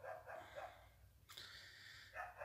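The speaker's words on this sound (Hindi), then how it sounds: "जो कुत्ता है ये पूरे घंटे से भौंक रहा है।" A dog barking at around 4 a.m., giving short repeated barks in a few bursts with pauses between, moderately distant and fairly faint against a quiet night background.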